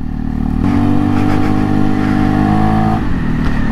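Segway AT6 SX 570 ATV engine accelerating up close, a loud mid-pitched drone that rises smoothly and linearly in pitch, alone without talk.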